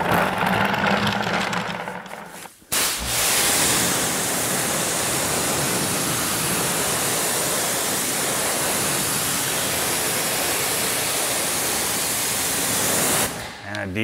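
Water pours and sprays continuously off a 997.2 Porsche GT3 RS during a wash, a loud steady rush that runs for most of the stretch after a brief break near the start.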